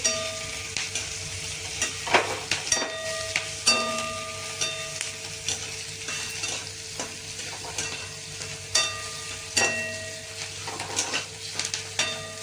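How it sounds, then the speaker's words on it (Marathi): Chopped onions sautéing in a pan for a paneer masala curry, with a steady soft sizzle and repeated scraping clinks of a spatula stirring against the metal, close and fairly quiet, no voices. "हे मी असे कांदे परतवून घेत आहे"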